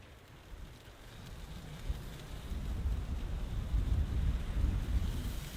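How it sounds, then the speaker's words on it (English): Strong wind gusting outdoors on the outskirts of Taos, a steady low rumbling roar with buffeting against the microphone that builds gradually louder over the few seconds, with no talking. "the wind is way up"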